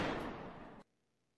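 A single loud gunshot from a Roblox game fires at once as one dense burst, then cuts off abruptly into near silence.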